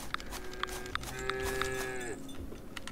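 Cows in the farming game Farm Together 2 moo several times in a row, clear, fairly close calls over a quiet background with no talking.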